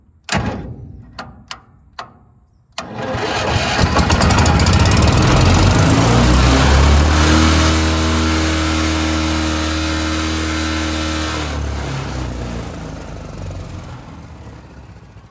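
A new hydroseeder's small engine is pulled several times, catches and roars up to a loud, steady high-revving run before easing slightly, preceded by a few sharp knocks, all close by.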